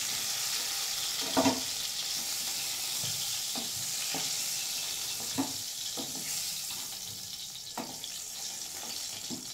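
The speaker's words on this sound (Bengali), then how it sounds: "আস্তে আস্তে পটলগুলি ভাজা হবে।" Pointed gourd (potol) pieces frying in oil over a medium flame, a continuous close sizzle broken by several sharp clinks and scrapes of a spatula turning them, with no voices.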